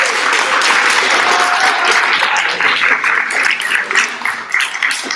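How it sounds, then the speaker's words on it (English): Sustained applause from an audience at a school honor roll assembly, a dense steady wash of many hands clapping that carries on throughout, thinning a little toward the end, with a faint voice briefly audible. "Let's give another round of applause for Shania."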